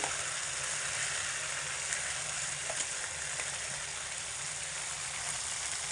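Soaked rice fries with spices in a pot for khichuri, a continuous, fairly quiet hiss and sizzle with occasional faint stirring ticks.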